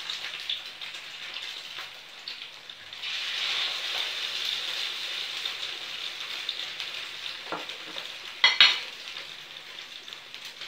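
Beef patties sizzle in a frying pan in a home kitchen, a steady crackling hiss that swells for a moment, with a sharp clatter of utensil against pan near the end.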